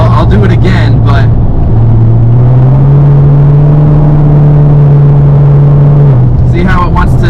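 A car engine revs up and holds a rising, droning pitch while a badly slipping clutch barely grips, loud and close inside the car, with a voice talking briefly before and after.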